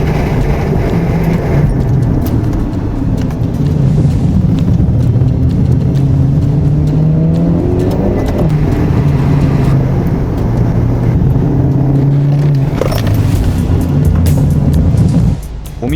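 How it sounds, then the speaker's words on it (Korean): A scrapped race car runs on a rain-soaked, slippery track with standing water, its engine droning and shifting pitch under a constant hiss of spray and wet tyre noise, loud and close throughout. "경기장에 들어서자마자 미끄러지는 차량."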